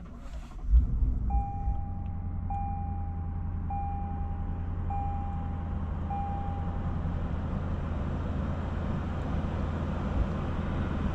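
A 2025 Lexus IS 500 F Sport Performance with a 5-liter naturally aspirated V8 drives along, heard from inside as a steady low engine drone with a faint tonal chime repeating a few times early on.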